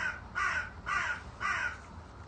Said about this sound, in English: I can hear an aggro crow